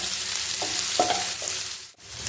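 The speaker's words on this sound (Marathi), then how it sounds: "आता यात मी 2 मध्यम आकाराचे बारीक चिरून घेतलेले कांदे घालत आहे. हा कांदा ना कच्चा नाही ठेवायचा, चांगला गुलाबी होईपर्यंत परतवायचा" Finely chopped medium onions sizzle in hot oil while being stirred, a steady close frying hiss with a few soft scraping strokes and a brief dip near the end.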